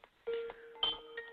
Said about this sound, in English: those tones, that's my Skype going off